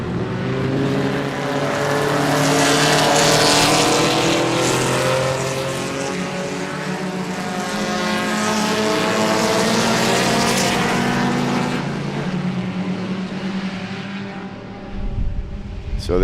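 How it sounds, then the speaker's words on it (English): Vintage class race cars, including an open-wheeler, roar past on the Sebring track in a continuous loud engine drone with layered revving harmonics that swell and fade as cars pass, ending in a brief thump. "you can see there's quite a variety of different race cars out there on the track right now"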